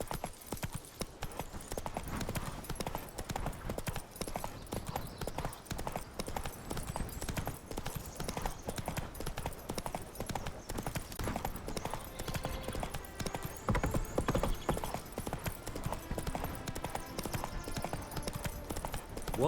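Horse hooves galloping in the video game The Witcher 3, a continuous rapid clip-clop rhythm running steadily at moderate loudness with faint game ambience underneath.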